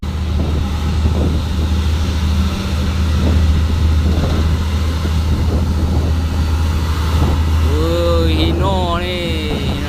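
A Hino 500 trailer truck drives past with a loud, close, droning engine rumble that holds steady, and a voice or horn-like tones rise near the end.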